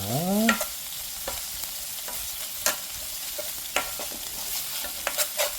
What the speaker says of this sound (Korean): 베이컨 볶음밥의 생명은 베이컨을 타지 않게 볶아주는 겁니다.